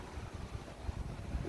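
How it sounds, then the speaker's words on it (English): Low, rumbling wind noise fills the air steadily with gusty swells, outdoors, without any clear voices or other distinct sounds. "It's real windy out here, cloudy, breezy, windy."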